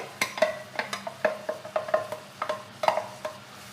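Ground spice paste sautéing in a pan for a veg white kurma, with a steady low sizzle under a run of sharp, evenly spaced spoon taps and scrapes against the pan, close and moderately loud, no voices.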